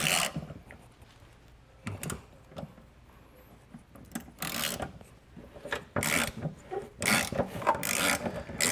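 A 9mm socket tool loosens the spare tire winch gearbox on a 2022 Hyundai Palisade, making close, raspy grinding and ratcheting bursts. Short turns come first, then longer, more frequent runs, with no talking.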